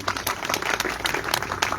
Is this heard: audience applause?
yes